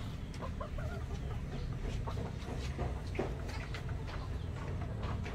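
Dekalb Brown laying hens cluck and murmur at a nesting box in the morning, with soft overlapping calls that continue throughout over steady coop background noise.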